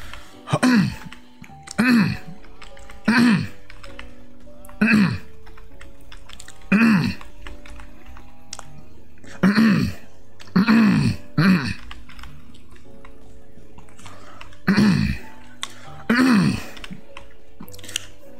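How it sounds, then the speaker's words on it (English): Repeated short throat clearing into a microphone to drive voice-controlled movement in a Roblox game, about a dozen close, loud bursts spaced irregularly across the stretch, sometimes in quick pairs, with game sounds faintly underneath. "See, I gotta clear my throat to make it, apparently"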